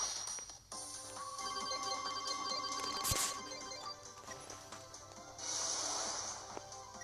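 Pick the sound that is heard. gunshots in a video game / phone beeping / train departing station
phone beeping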